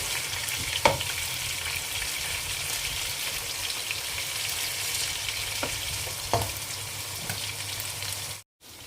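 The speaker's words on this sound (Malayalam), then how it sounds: "ചിക്കൻ നന്നായി ഫ്രൈ ആയിട്ടുണ്ട് ഇതെടുക്കാം" Chicken pieces sizzle steadily in hot oil while being fried for a fried chicken biryani, with a few sharper pops and spatters standing out from the continuous crackle.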